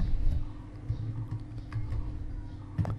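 A few soft, quiet clicks from a computer keyboard as the Control and F11 keys are pressed, spaced out over low room hum.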